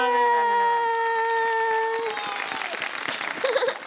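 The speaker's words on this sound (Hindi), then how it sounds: "बहुत सारी तालियां बजा दें, शाबाश" Studio audience applauding for children on a Pakistani television kids segment, clapping rising after a sustained musical tone fades, continuing busily under faint voices.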